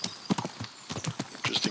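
A horse's hooves clip-clop in the medieval role-playing game Kingdom Come, sounding as a brisk, uneven run of close hoofbeats in short clusters with brief pauses between them.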